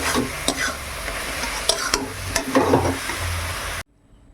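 Stirring and scraping hot coconut filling in a wok, a dense run of scraping strokes with a light sizzle, close and steady, ending abruptly in near silence.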